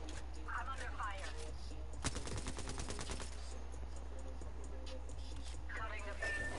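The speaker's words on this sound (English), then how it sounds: "Shot fired at me." Rapid bursts of video game gunfire in a battle royale match with a closing ring, a dense rattling volley in the middle of the clip over constant background game sound, with a player's voice talking at the start and end.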